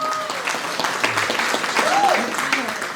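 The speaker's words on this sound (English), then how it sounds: "Let's give him a big round of applause." An audience at a business networking event claps in steady applause, with a voice speaking over the crowd.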